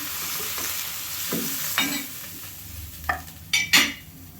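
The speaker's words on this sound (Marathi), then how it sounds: "ते त्या असं भाजून घ्यायचं मस्त काढून घ्यायचं" Ingredients for palak paneer roasting in a pan, a soft continuous sizzle with a few spatula scrapes and stirring knocks growing louder near the end, no speech.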